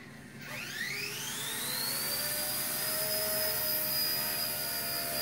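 An XK K124 EC145 RC helicopter spools up indoors. A rising whine settles into a steady high-pitched hum of rotor and motor, close and alone.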